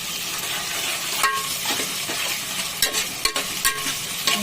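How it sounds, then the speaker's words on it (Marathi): Turmeric and red masala sizzle in hot oil for a chicken dish, giving a steady close frying hiss broken by a few scraping stirs of the spoon. "लाल मसाला तेलात तळल्यावरती."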